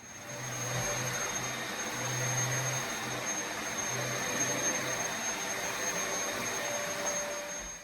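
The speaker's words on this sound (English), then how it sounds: "as you could hear, my mum was hoovering" A vacuum cleaner runs in another room, a steady muffled drone with a faint high whine that holds for several seconds, with no voices.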